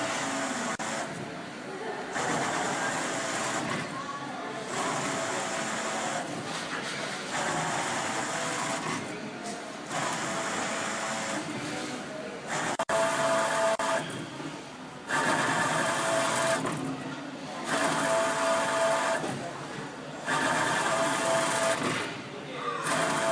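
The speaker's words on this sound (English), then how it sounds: "Now, let's see the operation of the motor." A low-voltage servo motor running in cycles of steady mechanical whirring, with a tonal hum broken by short pauses, loud and close throughout.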